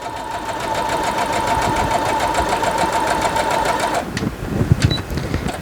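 Sewing machine stitching a quarter-inch quilting seam: a fast, steady mechanical whirring run for about four seconds close by, then a stop followed by a few clicks and handling knocks.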